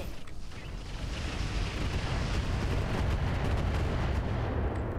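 Mech weapons fire in the Roguetech video game, a dense, loud rumbling barrage of booming shots that swells and holds steady, with no voices over it.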